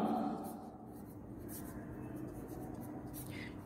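A pen scratching across paper while a maths problem is worked out, a faint continuous scraping with slight rhythmic strokes, close and quiet.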